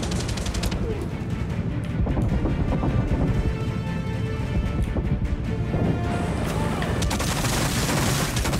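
Dense, rapid gunfire from the video game Far Cry 6 crackles nonstop with heavy bursts and explosion booms layered together, loud and chaotic for the whole stretch.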